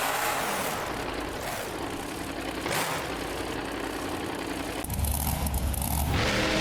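A monster truck engine in BeamNG Drive, Black Stallion backing out in reverse at a Monster Jam World Finals in St. Louis, drones steadily and loudly with a coarse rumble, swelling a little harder near the end.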